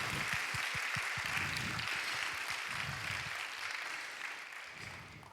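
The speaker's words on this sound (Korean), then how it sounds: "우리 부활의 주님께 같이 영광의 박수 올려드리도록 하겠습니다" Sustained applause from a church congregation during an Easter youth worship service, a dense, steady wash of clapping that holds loud throughout and eases slightly toward the end.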